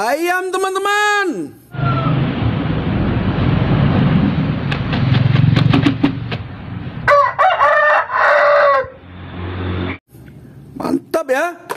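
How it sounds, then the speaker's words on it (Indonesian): A rooster crows loudly and chickens cluck nearby, with bursts of squawking and flapping between the calls. "Ayam teman-teman."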